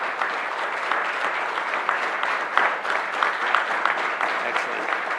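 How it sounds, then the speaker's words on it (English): Applause from a conference audience for competing carbon-removal teams at a finalist showcase, a steady dense clapping from a large seated crowd, moderately loud and sustained with no talk over it. "please join me with a round of applause"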